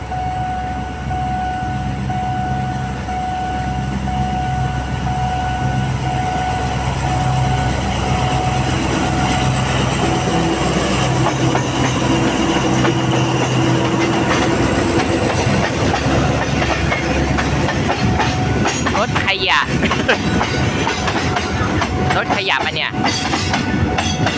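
A diesel train passes close by at a level crossing in Thailand with a steady heavy rumble, clattering wheels and hiss that grow louder, then fade near the end.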